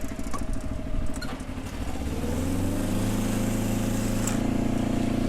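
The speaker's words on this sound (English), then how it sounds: "First function we want to use is our jib out function to release the jib from the cradle." Engine of a Monitor 1890 spider boom lift running as the jib is extended out of its cradle, a close, steady mechanical drone that deepens and thickens into a louder, sustained hum partway through, with no talk.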